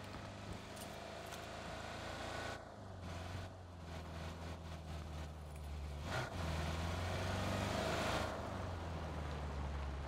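Car driving in PlayerUnknown's Battlegrounds, a low steady engine rumble that shifts pitch and swells louder toward the end, heard at moderate distance under scattered game sounds without talking.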